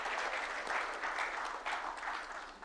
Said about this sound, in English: I'd like all of you to join me in at least a small round of applause for